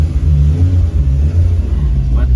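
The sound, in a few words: BMW E30 325is car pulling out of the shop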